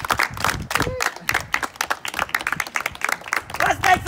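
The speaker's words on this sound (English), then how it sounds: "But clap it up." A senior team applauds at an end-of-season awards gathering, dense scattered clapping filling the room, with voices and cheers mixed in throughout.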